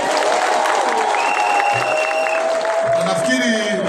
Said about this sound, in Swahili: Wajakoya na makofi.